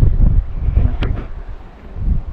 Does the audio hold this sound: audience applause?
no